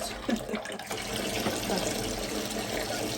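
Running water splashes steadily into a sink, a continuous close gushing with a few brief knocks at the start.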